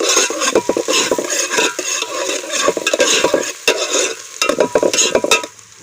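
Whole spices, bay leaf, cinnamon, cloves, black pepper, chilli, curry leaves, chopped onion and garlic fry in oil in a pan over a village wood-fired stove, a steady loud sizzle broken by repeated spoon scrapes and clinks against the metal.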